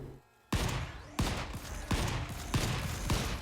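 Five loud, close gunshots in the video game Volcanoids, each sharp crack followed by a short decaying tail, fired at roughly even intervals of about two-thirds of a second after a brief quiet start.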